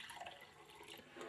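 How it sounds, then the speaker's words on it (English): Water poured into a glass at home, a brief close splashing trickle with bright bubbly gurgles over little more than a second, no talk. "All you do is take a glass and pour water in it like so."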